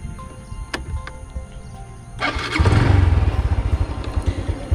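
A first-generation Honda Blade 110 motorcycle engine cranks and catches, then settles into a steady, throbbing idle close by, with light background noise before it starts.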